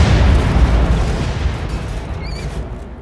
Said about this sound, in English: As the mines detonated in chain, they were like a lit fuse racing across the landscape.